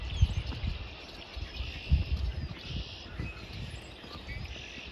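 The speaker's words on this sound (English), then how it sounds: "There is so many bird sounds." Many birds chirp and sing in a thin, steady chorus near a flooded river in snowy country, with low rumbling river noise and occasional thumps underneath.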